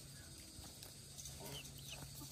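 Faint, close clucking from a small bald black chick pecking at a cloth sleeve, with scattered soft clucks and light taps in an otherwise quiet space and no talk.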